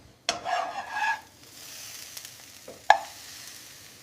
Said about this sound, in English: then gently stir with your spatula